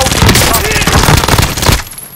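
Hostile gunfire in Call of Duty: Modern Warfare, a loud, rapid burst of automatic shots that rattles on for nearly two seconds and then cuts off abruptly.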